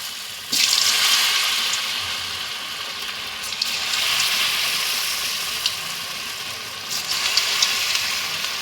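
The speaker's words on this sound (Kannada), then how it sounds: "ಈಗ ಎಣ್ಣೆಯಲ್ಲಿ ಹಾಕೋಣ ಎಣ್ಣೆ ಕಾದಿದೆ" Raw plantain kebabs frying in hot oil give a steady, bright sizzle that swells at the start and again near the end, with no talking.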